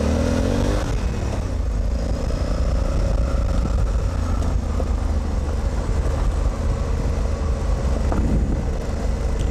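A Honda Africa Twin motorcycle rides over gravel, its engine holding a steady, loud drone with low rumble and road noise, and no one talking.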